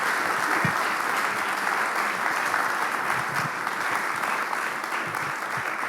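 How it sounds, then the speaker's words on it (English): Sustained audience applause after a panel discussion at an environmental politics talk, a dense steady wash of many hands clapping throughout, fairly loud and even, with no speech over it. "a big round of applause for Karen, Caroline, Paul and Susanna."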